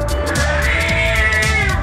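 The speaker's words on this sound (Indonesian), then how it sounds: "Ada kucing lagi ya?" A cat in the Tenchu 3 video game lets out a drawn-out, wavering meow that is close and loud, layered over steady game background sound.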